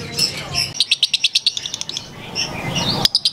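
Lovebirds chirp in a quick run of sharp, bright notes, with scattered softer calls before and after and a final burst at the end, close and fairly loud, with no talking.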